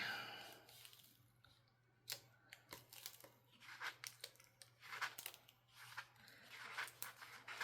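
Cricut craft vinyl peeled slowly back from its backing sheet, heard as soft close tearing and crackling in uneven bursts after a short quiet start, with no voices.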